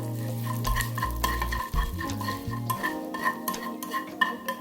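Curry leaves and asafoetida tempering in hot oil for an ivy gourd chutney, brief spattering sizzle with low rumbling tones at first, then stirring clinks and scrapes of a spoon in the pan.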